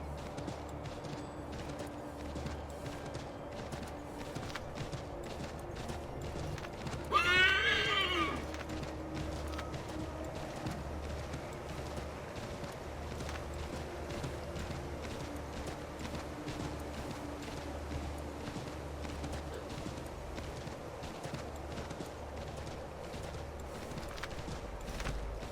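A horse in Assassin's Creed 3 Remastered clip-clops at a steady, rapid rhythm, with one short neigh partway through, over a faint ambient game background.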